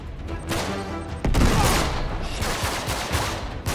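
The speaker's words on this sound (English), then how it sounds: "Man, that guy's trying to shoot me." Heavy gunfire in the video game Uncharted 3, a dense continuous fusillade with booming impacts, loud and close throughout.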